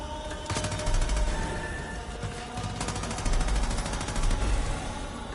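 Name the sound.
light machine gun firing in Far Cry 5 video game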